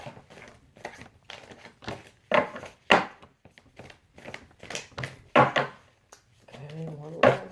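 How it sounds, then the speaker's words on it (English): Tarot cards are shuffled by hand in short, uneven bursts of papery riffles and soft taps, close to the listener, with someone talking quietly between them. "I like to make sure I shuffle good to get you guys' energy in there"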